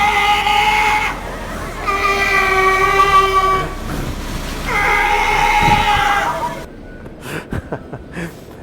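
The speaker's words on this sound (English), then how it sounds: "That is a sea lion." Sea lions give three long, loud, honking calls in succession, each a drawn-out nasal blare, followed by quieter knocks and scattered thumps.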